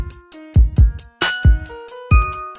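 A simple looping drum beat with punchy kicks and snappy hits, layered with short synth notes in a steady, upbeat rhythm.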